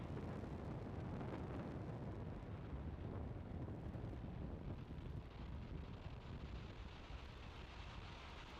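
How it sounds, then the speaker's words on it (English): SpaceX Falcon 9 rocket lifting off from Vandenberg Space Force Base, a distant, faint, continuous broadband roar like rumbling wind that holds steady throughout. "Liftoff of the Falcon 9"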